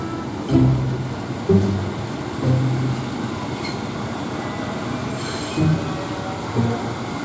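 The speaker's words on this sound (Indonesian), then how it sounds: "Kereta JR 205 delivery baru berangkat dari stasiun Jatinegara" A JR 205 commuter train pulls away from Jatinegara station with a steady rolling rumble, occasional wheel squeals and periodic clunks over the rail joints. It is loud and close, and nobody speaks.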